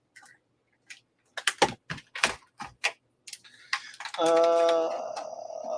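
A handful of sharp, irregular clicks of keys pressed on a computer keyboard, then a sustained electronic tone swells and lingers.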